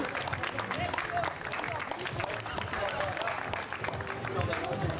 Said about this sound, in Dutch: En dan nog eens een welverdiend applaus voor dit mooie podium